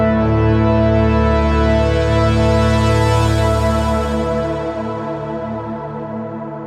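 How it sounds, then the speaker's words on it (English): A dense, bright synth pad sustains a thick chord, its buzzy upper edge sweeping open with the mod wheel and then dimming as the sound gradually fades. "Then there's pads that are more aggressive that sound like this."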